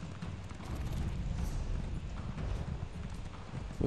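Horse hooves galloping in the video game The Elder Scrolls Online, a continuous dense drumming of hoofbeats with no clear gaps, steady and fairly close over a broad rumbling game soundscape.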